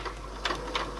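A sewing machine stitches a skirt seam, a soft steady mechanical hum with two brief louder bursts of needle clatter, close and alone.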